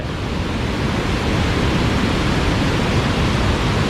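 Tat Sae waterfall in Xieng Ngeun, Luang Prabang, roars as a steady, loud, broadband rush of falling water, unbroken and close with no voices.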